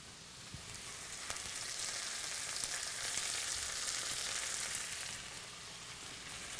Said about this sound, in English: I'm just gonna help it along and scrape all the caramelization that happened at the bottom.